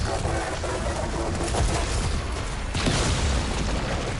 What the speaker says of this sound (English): All these nonsensical explosions.